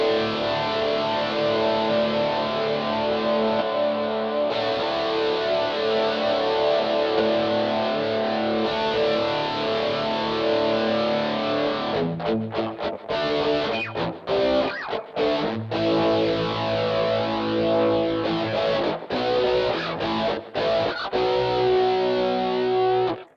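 A distorted electric guitar through an original Rockman distortion unit plays sustained chords and notes with a thick, compressed, chorus-tinged tone, loud and continuous with brief choppy breaks.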